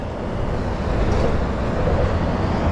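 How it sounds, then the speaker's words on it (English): Container lorries rumbling past on a main road near Southampton docks, a steady heavy low drone of traffic noise with no distinct gaps, fairly loud and continuous. "We're literally on the main road where we've got container lorries coming over constantly, both ways."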